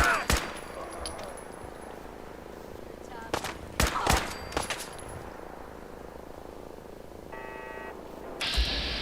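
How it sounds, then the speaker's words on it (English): Gunfire in the Fallout 4 video game: a few sharp, loud shots and short bursts spread across the scene, separated by quieter stretches of game ambience. "Who's shooting at me?"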